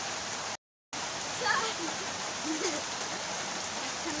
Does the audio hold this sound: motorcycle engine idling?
no